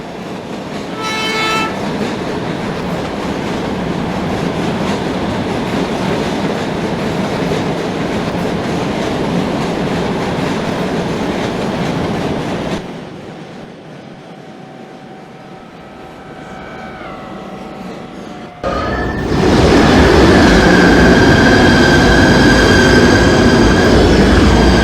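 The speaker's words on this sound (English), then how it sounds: "it's a PATH train coming down the Newark drawbridge" Simulated PATH commuter train crossing the Newark drawbridge in the Trainz rail game, with a steady loud rolling rumble and clatter, a quieter stretch with a falling tone, then a louder bright passage near the end.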